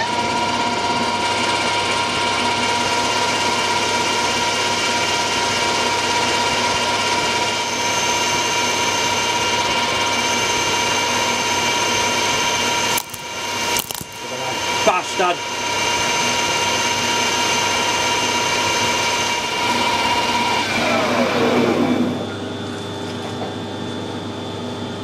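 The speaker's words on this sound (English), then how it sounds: "I'm going to run the lathe a little bit faster and take a nice fine finishing cut." A metal lathe runs at higher speed taking a fine finishing cut on an external taper, a steady droning hum with tonal whine, interrupted midway by brief clattering knocks and winding down near the end.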